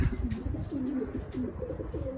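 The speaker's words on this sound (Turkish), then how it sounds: "Burada da ne kadar posta güvercin varsa hepsini bu alanda toplayacağız artık." Homing pigeons gathered in a loft coo in a steady series of soft, low, rolling calls, close and overlapping, with no talk over them.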